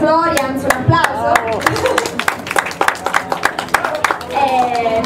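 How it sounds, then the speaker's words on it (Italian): An audience applauds at an on-stage event at Etna Comics 2014, a burst of sharp scattered claps running throughout while voices speak and cheer over it. "i miei colleghi Midi Florian, un applauso."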